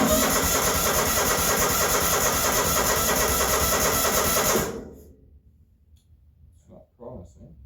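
A vintage Onan generator engine runs with a loud, dense, rattling roar for several seconds, then dies away abruptly, followed by a few faint thumps and clanks in near silence.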